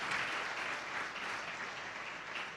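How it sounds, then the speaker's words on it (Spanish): A church congregation claps continuously, a steady wash of applause at moderate, slightly distant volume. "Give our Lord a round of applause."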